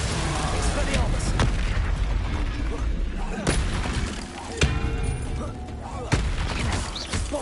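Repeated explosive spell blasts from Bombarda and Confringo in the Hogwarts Legacy video game, loud booming impacts at irregular intervals over dense rumbling game noise.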